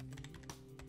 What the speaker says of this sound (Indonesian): Aku mulai mengetik